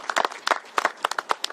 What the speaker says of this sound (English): Please join me in a round of applause for them for hosting